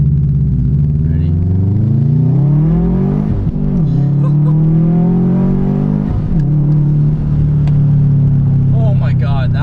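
A tuned Subaru WRX launches hard off the line, its engine rising loud and close through gears with brief dips at shifts, a continuous strained roar filling the clip.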